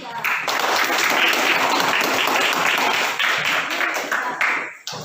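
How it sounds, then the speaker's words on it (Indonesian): Applause for a student group in an Indonesian classroom during a teacher-training assessment, a dense burst of clapping that holds steady for about four seconds before tapering off with a few final claps. "silakan kita beri aplaus untuk kelompok 3"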